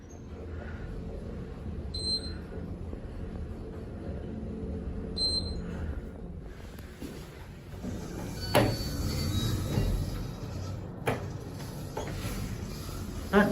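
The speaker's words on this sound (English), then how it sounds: "That door operator is a bit loud." An elevator door operator in a Las Vegas mall runs with a steady mechanical hum and whir, while a couple of chime tones sound early on and sharp clunks and bumps follow as the doors move.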